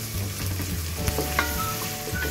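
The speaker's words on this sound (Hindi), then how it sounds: "अब इनको मैं अच्छी तरह फ्राई कर लूँगी।" Eight to ten garlic cloves fry with onions in oil in a pot, making a continuous close sizzle and crackle while being stirred, with a few sharper pops and no voices.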